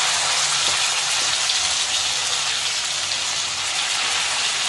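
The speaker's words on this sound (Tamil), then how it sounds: "முந்திரி நல்லா வறுக்கப்பட்டதும் நம்ம அதில் இந்த மசிச்சு வச்ச பாசிப்பருப்பை போட்டுக்கலாம்" Mashed moong dal hits roasted cashews in a hot pan, producing a steady, loud, close sizzling and frying hiss that continues evenly throughout.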